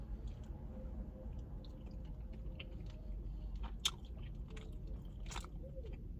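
Faint, close chewing of smoked brisket with a lightly sweet barbecue sauce at Corky's BBQ in Memphis, with soft, irregular clicks and crunches over a low background hum and no talking.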